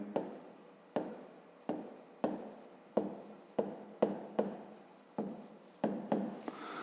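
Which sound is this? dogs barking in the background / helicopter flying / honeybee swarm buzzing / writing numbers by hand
writing numbers by hand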